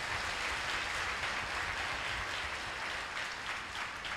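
A crowd at a prayer gathering claps in dense, continuous applause that holds at an even level throughout, with no speech over it.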